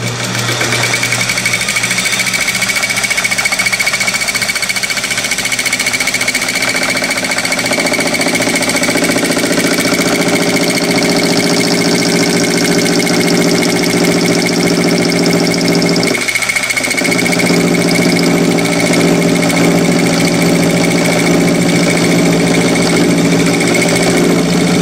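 A lathe runs steadily while turning a model crankshaft. It gives off a loud, continuous mechanical drone with rhythmic chatter and clatter throughout, and there is a brief change partway through.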